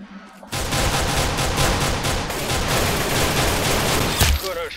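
Rapid pistol fire rattles in dense, loud bursts in a Roblox Arsenal match, dual pistols firing nearly continuously for several seconds before stopping abruptly with a final shot.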